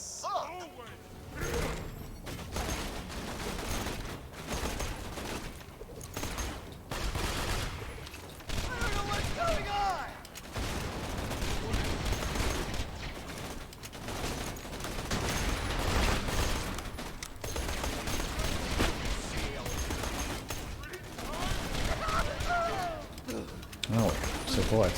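Borderlands 2 gunfire, with enemies shredding shields during a fight, plays as dense rapid bursts and repeated shots for the whole stretch, mixed with game effects and talk.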